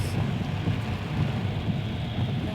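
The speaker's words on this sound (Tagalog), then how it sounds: "Lakas ng ulan sa labas" Heavy rain pouring outdoors in Jeddah, a dense, steady roar of falling water with a low rumbling undertone that stays constant throughout, with no voices.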